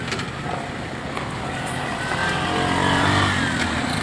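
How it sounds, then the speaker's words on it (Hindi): Heavy highway traffic of auto rickshaws, motorbikes and trucks leaving Mumbai produces a steady engine roar. One vehicle revs and passes close by toward the end. "इतना लंबा ट्रैफिक है कम से कम 15 से 20 किलोमीटर का लंबा ट्रैफिक है"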